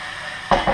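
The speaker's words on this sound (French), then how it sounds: "Là je vais déglacer ma casserole" Red wine hits a hot saucepan of browned moussaka meat, a sudden loud burst of hissing sizzle that flares up after a moment of quiet, then briefly swells again.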